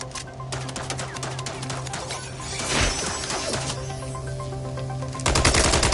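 Rapid machine-gun fire rattles at robots in a video game, loud close bursts with metallic clanks and impacts, growing heavier toward the end.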